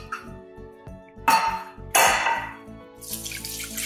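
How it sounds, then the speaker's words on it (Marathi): Excess water is poured off cooked dal from a pressure cooker to keep for amti, giving two short splashing pours with faint clinks of a pot, followed by lighter dripping. "डाळीचं पूर्ण पाणी काढून आपण हा जो कट आहे हा कटाच्या आमटीसाठी वापरायचा"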